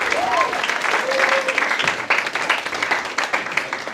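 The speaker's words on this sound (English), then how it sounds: "give him a round of applause" An audience at a school Christmas improv night breaks into applause, dense clapping that holds steady and then thins into scattered claps, with a few voices briefly audible over it.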